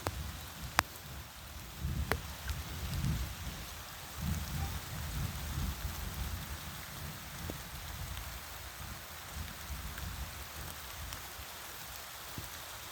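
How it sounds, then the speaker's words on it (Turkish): Steady rain falls with a constant hiss, punctuated by occasional sharp drips and low rumbles, with no one speaking. "Bakın yağmur yağıyor"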